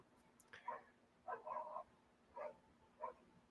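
A neighbor's dog barks in the distance, several separate muffled barks in an uneven rhythm, spread across a few seconds against a quiet background with a low steady hum.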